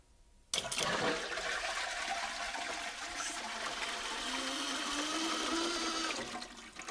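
A Cistermiser Easyflush sensor-activated cistern flushes with a sudden loud rush of water that continues steadily for about six seconds before tapering off. The sound is close by, with no talk over it.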